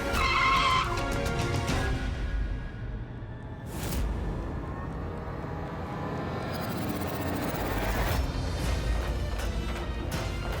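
A car skids to a stop in front of a woman, with a long, harsh tire screech and a roaring engine that fades and then surges again over about ten seconds.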